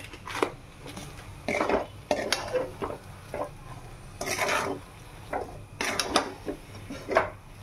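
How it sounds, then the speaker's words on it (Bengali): A spoon stirring spiced potato filling with turmeric, chili powder, coriander leaves and green chilies in a pot, for aloo paratha: scattered scraping and clinking strokes at irregular intervals, close and moderately loud, with no talk. "এক হাত দিয়ে নাড়ছি তো ঘুরে যাচ্ছে"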